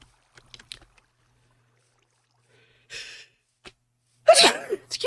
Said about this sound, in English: the sneezes will be the death of me.